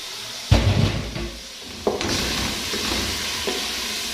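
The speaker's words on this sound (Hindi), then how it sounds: "अब इसमें मैं डाल रही हूँ पानी।" Water is poured into garlic spice masala frying in a pan for beef paya, setting off a sudden loud sizzling burst that settles into a steady hiss and bubbling close by, with a second sharp sizzle partway through.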